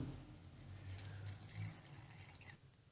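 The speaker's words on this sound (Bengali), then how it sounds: "দিয়ে দিচ্ছি পানি বেশি না আমি এক কাপের মতো পানি দেবো" About a cup of water is poured into a blender holding bitter gourd, a soft trickling splash that runs for a couple of seconds and then fades, with no talk over it.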